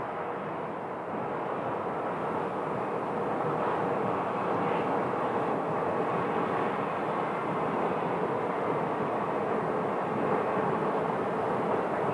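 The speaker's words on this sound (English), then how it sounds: "So this Embraer 170, just pulling in from Oregon." A SkyWest Embraer 170 airliner taxiing in at Phoenix Sky Harbor Airport: a steady, broad jet-engine roar with a constant whine, unchanging and fairly close, with no voices.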